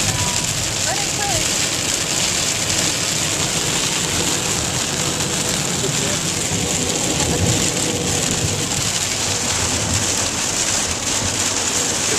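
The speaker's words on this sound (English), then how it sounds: "It's raining. It's raining hard." Heavy, steady rain pours down continuously, a dense hiss of water hitting surfaces with no letup throughout.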